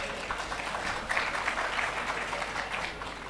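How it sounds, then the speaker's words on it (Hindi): Applause for an award winner at an awards ceremony, a steady wash of many hands clapping at moderate volume, continuing evenly for a few seconds with no voices over it. "राजेश अग्रवाल जी के लिए एक बार जोरदार तालियां हो जाए"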